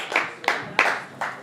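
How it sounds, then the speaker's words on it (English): A few scattered hand claps from a small group, four sharp bursts spaced roughly evenly, close and moderately loud, giving a thin round of applause for Richard Montano. "let's have another round of applause for Richard Montano"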